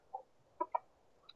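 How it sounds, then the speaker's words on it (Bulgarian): A chicken in the game GTA San Andreas Multiplayer gives a few short, clipped clucks with gaps between them, fairly close and moderately quiet, with no talking. "Гадно, тъпа кокошка."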